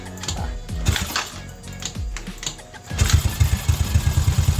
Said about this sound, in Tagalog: So sipain natin kung andar to.